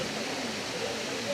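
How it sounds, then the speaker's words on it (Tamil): Gunung Pulai waterfall in Johor, Malaysia pouring over rock, a steady broadband rush that fills the whole moment evenly with no breaks. "இங்கே இருந்து அந்த அருவி கொட்டுறதை பாருங்க"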